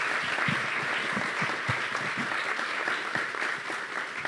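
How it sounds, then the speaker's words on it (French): Dense, sustained applause from a seated audience at a public meeting in Toulouse fills the room, steady and even throughout with no speech over it. "Là, je ne veux entendre qu'un tonnerre d'applaudissements pour tout le monde."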